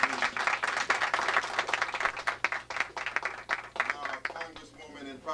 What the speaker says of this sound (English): And the family of Megan Williams, let's give them a round of applause.